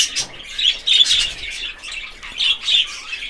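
A pet budgerigar chirps close by in rapid, bright bursts of tweets and squawky chatter, coming in clusters with short pauses between them.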